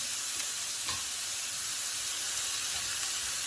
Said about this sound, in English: So right now you're just going to want to brown this meat